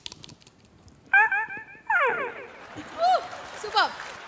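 A voice imitates a dog's yawn in a mimicry performance: a drawn-out, stretched whine with rising and falling pitch that breaks into a couple of short, squeaky vocal swoops, close and fairly loud.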